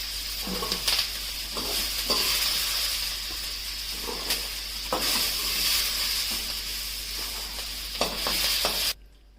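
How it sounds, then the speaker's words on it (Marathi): Vegetables for veg kolhapuri sautéing in a pan give a steady close sizzle and hiss, broken by repeated scraping and stirring strokes, until the sound cuts off abruptly at the end. "पाच मिनटं हे परतून घ्या चांगलं"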